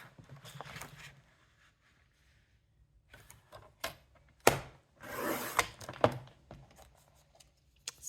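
Scissors or a blade cut off a paper branding strip from a dollar-store photo album, giving quiet rustles and several sharp snips and crinkles in short bursts, close and soft.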